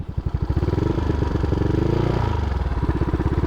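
A motorcycle engine idles with a stiffer 1500 rpm CVT spring and 2000 rpm clutch springs fitted, a loud, close, steady throbbing putter with a rough, growling edge and even rhythmic pulses.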